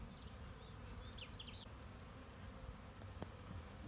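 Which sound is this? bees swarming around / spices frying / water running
bees swarming around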